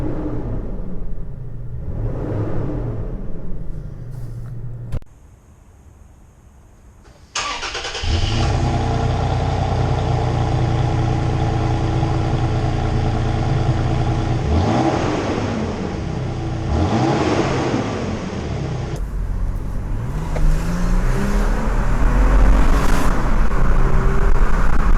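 A 3rd-gen Toyota Tacoma with its stock exhaust cranks and fires after a short near-silent pause, then settles into a steady, loud idle with a brief rev rise and fall partway through, heard from inside with the windows up.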